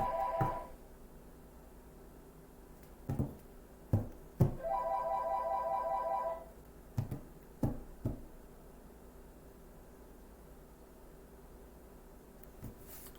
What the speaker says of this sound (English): Why is it every time I go to make a video, the phone rings?